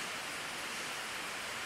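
Rain falls steadily outside a garage, a soft, even hiss of drops with no break, faint and uniform throughout.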